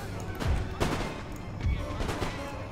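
A ragged musket volley from line infantry in the strategy game Empire Total War, several sharp cracks spread across a few seconds over battlefield ambience, loud and fairly close.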